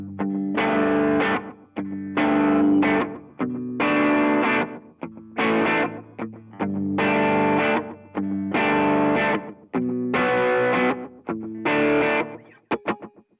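An electric guitar runs through an Alexander Pedals Rewind echo pedal set to slapback delay. Eight or nine distorted strummed chords ring out in steady phrases with short gaps, loud and close, with no talk.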